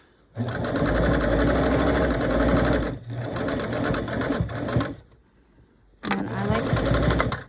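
Sewing machine stitching fabric for a concha blanket, running in steady loud bursts with brief pauses around 3 and 5 seconds and a longer stop before starting again.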